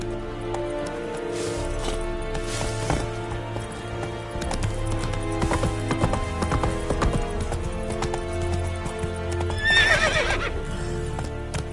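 A horse in The Witcher 3 gallops with steady rhythmic clip-clopping hooves over game music and ambience, then gives a loud whinny near the end.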